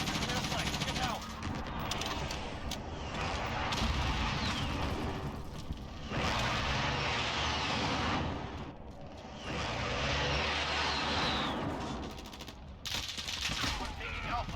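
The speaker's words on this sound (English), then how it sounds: "Allied precision airstrike inbound. Be aware." Precision airstrike in Call of Duty: Modern Warfare ground war, heard as loud, sustained waves of rumbling blasts and rapid gunfire, with a voice talking over the battle.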